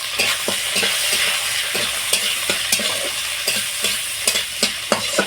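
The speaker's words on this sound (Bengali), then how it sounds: "পেঁয়াজটা খুব ভালো করে ভেজে নেব" Onion and green chillies frying in oil, a continuous close sizzle with a dense hiss, punctuated by regular scraping taps of a spatula stirring the pan.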